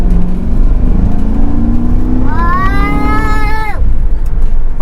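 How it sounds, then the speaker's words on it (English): Mercury Grand Marquis with an opened-up dual exhaust and rear cat delete, revving up in one rising surge and dropping off, over a steady low idle rumble, close and loud. "We opened up the exhaust."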